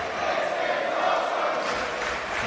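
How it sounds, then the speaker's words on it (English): A live pro wrestling crowd cheering and roaring in an arena, a dense continuous wash of voices at steady high volume with no distinct individual calls. "Live crowd loving what they're seeing."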